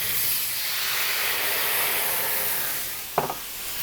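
White wine poured into a very hot pan of browned chicken thighs and drumsticks over high heat: a steady broad hiss of steam and sizzle runs throughout, with a sharp crackling burst near the end.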